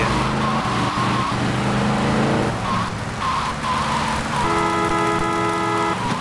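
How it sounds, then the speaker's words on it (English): A car engine in the video game GTA Vice City drones loudly and continuously, its pitch rising and shifting as it revs, with tire noise underneath. "the car sound is really good"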